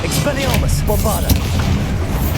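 Booming blasts from the Bombarda explosion spell in the video game Hogwarts Legacy, a loud continuous rumble with sharp bursts, mixed with a shouting voice and game effects.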